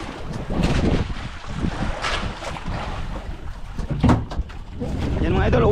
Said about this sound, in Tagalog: naglakas na rin yung hangin oh